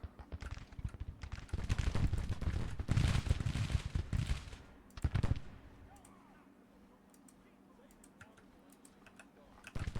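A Civil War battle at Bull Run in Grand Tactician: The Civil War erupts in dense, crackling musket volleys for about five seconds, then thins to a few scattered distant pops over a quiet background.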